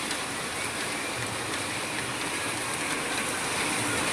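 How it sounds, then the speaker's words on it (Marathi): Heavy sudden rain pours down in a dense, steady roar, an even wash of drumming water with no voices heard. "आता दणादण पाऊस चालू आहे"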